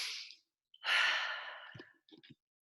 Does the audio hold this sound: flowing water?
no